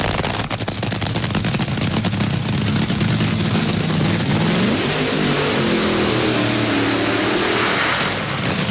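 Fram top fuel dragster at an NHRA drag strip during qualifying: a loud, crackling, rapid-fire engine roar that swells as the car revs and accelerates, with pitch sweeping upward midway, continuous throughout with no talk.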